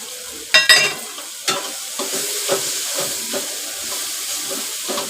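A spoon scrapes and stirs spices into tomato masala frying in a pan for a Malvani-style dry prawn dish, with a few sharp clanks at first followed by a soft, steady sizzle and occasional stirring taps.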